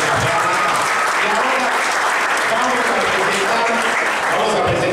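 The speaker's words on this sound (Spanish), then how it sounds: "un aplauso a Tito y a Fede" Sustained applause from a dinner audience at a racing team's presentation of a micromidget race car and its driver, a dense steady clatter of many hands filling the room at even loudness throughout.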